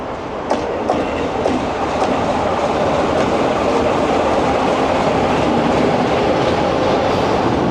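A British Rail Class 44 diesel locomotive runs on the heritage line between Rowsley and Matlock, a steady loud rumble with rhythmic clickety-clack of wheels over rail joints throughout, heard close and without talk.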